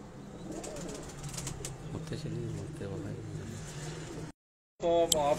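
Teddy pigeons from Dubai coo softly in low repeated murmurs amid background noise. Someone talks over them, then after a brief gap a loud burst of wing flapping breaks out close by.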